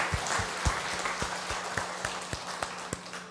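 Clapping during a Korean Sunday church service, where sparse, distinct hand claps land at a rough rhythm over a quiet room and thin out toward the end.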